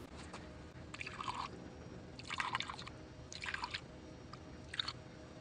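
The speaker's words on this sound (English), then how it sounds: "I'm going to pour water in each one of these and let it sit for an hour just to see if any of them leak down." Water is poured into the ports of a cylinder head for a valve leak test, heard as four short, close splashing pours, each lasting under a second, separated by brief pauses with a faint hiss between them.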